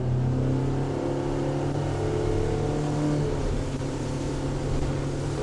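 A 2022 Yellowfin 5800 boat with a folding hard top accelerates toward the plane, its engine a loud, steady, close droning roar with a low hum that holds throughout.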